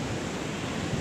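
Ocean waves at Jayanti beach in South Cianjur, on the open ocean with large surf, form a dense, steady roar of broadband noise, loud and close.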